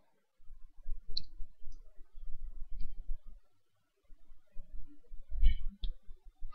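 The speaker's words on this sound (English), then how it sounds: "type the code as I am typing here." Soft computer keyboard key taps patter in an irregular rhythm while typing Java code, pausing briefly before another burst of typing; close and fairly quiet, with no speech.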